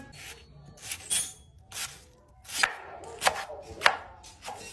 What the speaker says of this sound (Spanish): Necesitamos una cebolla. Picamos en figuras cuadriculíneas.